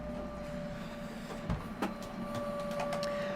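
Disc resurfacing machines whirring steadily in a back work area, a constant mechanical hum with a faint tonal whine, broken by a couple of brief clicks and clunks, moderately quiet and with no voices.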